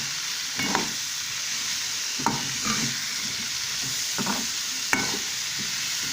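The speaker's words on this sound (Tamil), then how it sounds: "தக்காளி சேர்த்துட்டு தக்காளி நல்லா வதங்கிக்கலாம்" Tomatoes sautéing in a pan for garlic kuzhambu, with a steady soft sizzle broken by several louder stirring scrapes spaced a second or two apart, close and moderately loud.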